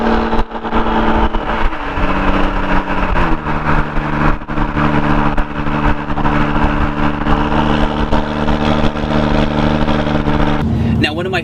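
A car fitted with an AWE Touring Edition exhaust and non-resonated performance mid pipe drones steadily through ordinary driving, a loud continuous engine and exhaust tone with gentle pitch shifts as it cruises.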